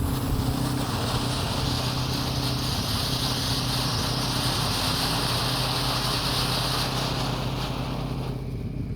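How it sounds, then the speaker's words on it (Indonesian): Two fountain fireworks, a 3-inch conic fountain and a lovely fountain, burning together outdoors at night. They make a loud, continuous roaring hiss of spraying sparks that holds steady for the whole stretch, with no talking. "2 air mancur ini sudah menyala guys."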